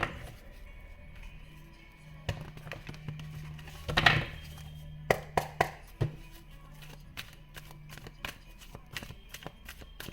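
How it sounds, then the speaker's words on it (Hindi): Tarot cards being shuffled by hand indoors, a soft riffling and shuffling with several sharp taps and clicks as the deck is handled, fairly close and alone without talk. "जैसे जैसे मैं कार्ड्स शफल कर रही हूँ"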